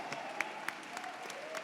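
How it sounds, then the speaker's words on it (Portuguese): Audience at a panel debate applauding, a brief faint spatter of claps from a small crowd with a couple of sharper individual claps standing out. "Palmas!"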